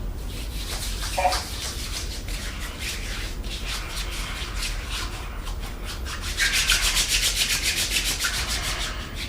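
Hands rubbing together in a close, steady dry swishing that grows louder and more vigorous toward the end, with no talk over it.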